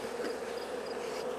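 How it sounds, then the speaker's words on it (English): Honey bees mill around near an open hive after a queen release, a soft continuous buzz heard close and fairly quiet, with no voices. "I got a handful of bees milling around there."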